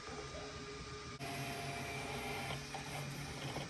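Motor whine and mechanical buzzing from a budget 3D printer homing its axes, steady and close, with a brief dip early on before the whirring resumes and continues.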